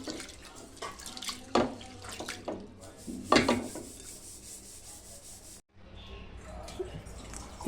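Lentils are rubbed and swished by hand in water, with wet scrubbing and splashing in uneven bursts and a brief pause near the end.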